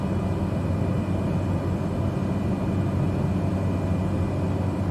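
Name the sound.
Cessna engine throttle increasing in Microsoft Flight Simulator 2020 video game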